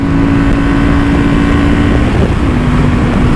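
Honda Transalp XL750 motorcycle engine, 2023 model, pulling steadily through the revs in fourth gear while riding, a loud continuous drone with a steady rising tone and wind rush.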